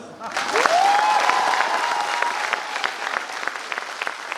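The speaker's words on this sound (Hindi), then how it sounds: "तो एक बार बिटुपन दास सर के लिए अब ताली बजाओ।" An audience claps for a leader at a company success event, applause swelling quickly and then continuing as scattered, uneven claps that gradually thin out.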